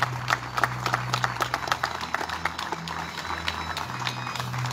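Audience applause at a medical association ceremony honoring doctors in Tucumán, a steady burst of many hands clapping with distinct sharp claps over a low background hum.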